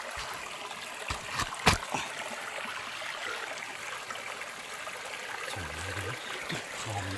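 Steady running water trickles and gurgles throughout, with a few sharp clicks or drips standing out near the start, moderately loud and close.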